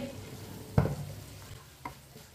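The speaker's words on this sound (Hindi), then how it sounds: "चूल्हे को बंद कर देंगे, मिक्स कर लेंगे।" Tinda vegetable curry stirred in a pan as the heat goes off: two distinct scraping strokes of the spoon, the first louder, over a faint low sizzle, close up and without talking.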